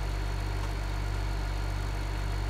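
A tractor engine in Farming Simulator 15 drones at a constant low hum while driving down a road, steady and unbroken, with no voices.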